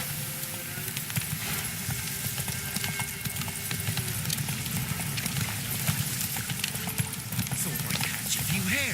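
Roach, the horse in The Witcher 3, clip-clops along at a steady riding pace, hooves close and rhythmic under a crackling, hissing background.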